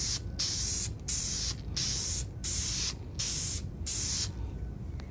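Epoxy primer is sprayed in a first light coat onto a bare metal patch panel of a Ford bullnose truck. It comes as steady hissing bursts, about six spray passes with short pauses between them, close and loud.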